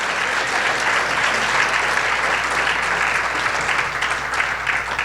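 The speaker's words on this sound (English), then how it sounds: "Let's give our top 3 Teachers of the Year another round of applause." Sustained round of applause from an audience at a Teacher of the Year ceremony, honoring the top three teachers; steady, dense clapping throughout, fairly loud and close, with no talk over it.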